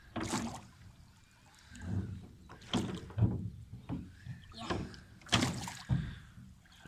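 Oars dip and pull through water as a small boat is rowed on the Volga, giving rhythmic splashing strokes with creaks and knocks roughly every second or two, close by, under intermittent talking.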